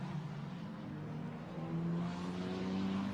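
Formula Renault Eurocup single-seaters accelerate at the Nurburgring circuit, engine tones rising steadily through the gears in a continuous, somewhat distant race-car drone with no talk.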